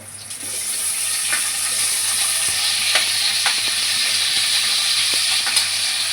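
Tomatoes with cumin roasting in a hot pan for a chickpea curry, a steady loud sizzle with occasional sharp crackles and light stirring taps, close and continuous with no voice.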